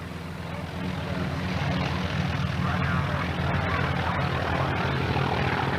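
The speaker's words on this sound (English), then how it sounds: "The T-28 aircraft over the years was used, and they have a very, very distinctive sound" Rough, throbbing T-28 aircraft piston engines idle steadily nearby at an air show, a continuous loud drone that swells slightly after the first second.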